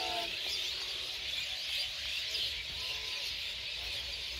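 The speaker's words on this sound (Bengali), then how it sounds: "এই যে দেখেন শুধু পাখি পাখি আর পাখি" Flocks of birds, including mynas, calling as they return to roost in trees in rural Bangladesh form a dense, continuous chorus of chirps, loud and unbroken throughout.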